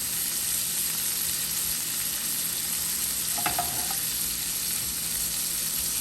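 Shrimp in a seasoned coating sizzling in a hot pan over a little above medium heat for a chili and jerk shrimp dish; a dense, constant close hiss with one brief clink midway, no talking.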